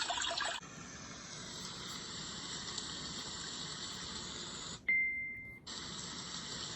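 Steady water-like hiss from a white noise speaker, a continuous wash that plays throughout, broken near the end by a short electronic beep and a brief gap before the flowing sound returns.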